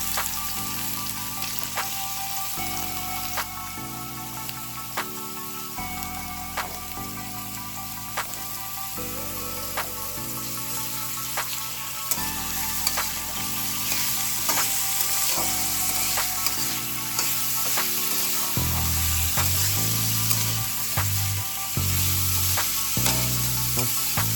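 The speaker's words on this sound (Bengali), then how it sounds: "কড়াতে তেল দিয়ে তেলটা গরম করে এখানে গাজর বিম করাই ভাজবো আর কি" Carrots and beans fry in hot oil in a wok, giving a steady sizzling crackle that runs beneath louder background music, with no speech.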